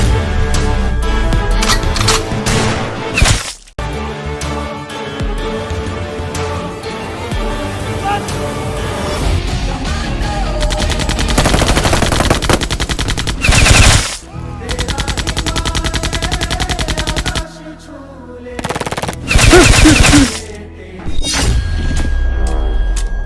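Loud machine gun fire from an Indian army battle scene rattles in long continuous bursts with brief pauses, with voices heard among the shooting.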